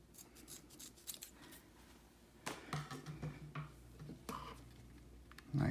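Scissors snip through paracord while a bullwhip fall is trimmed to length, a few quiet, sharp clipping clicks over soft handling noise, close up with no talk.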